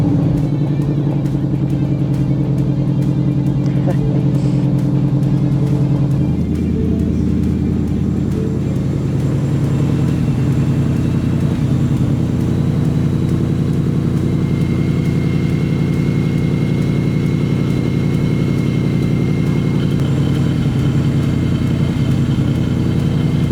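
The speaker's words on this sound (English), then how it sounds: "you should be good to fire the car up." A ProCharger-supercharged S550 Ford Mustang engine fires up and settles into a steady, loud idle with a low rumble that holds throughout and a change in tone after the first few seconds.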